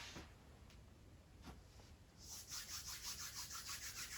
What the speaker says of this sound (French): On frotte les paumes l'une contre l'autre